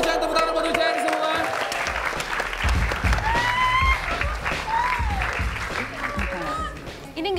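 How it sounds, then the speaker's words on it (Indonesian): Studio audience clapping for a contestant on a talent-show episode, steady applause blended with music and a faint voice, lasting several seconds at moderate loudness. "tepuk tangan buat Uchen semua"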